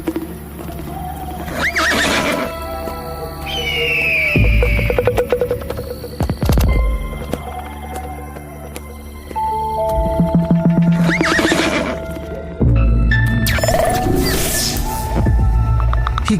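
A horse whinnies loudly several times while its hooves clip-clop on the ground between calls, close and clear over a low background hum.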